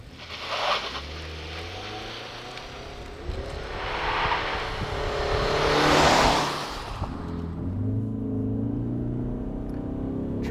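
2022 Ford Maverick Hybrid truck with CVT accelerating in normal mode without launch control, the engine and road noise swelling steadily into a loud rush and then easing off, heard from inside the cab with no talk.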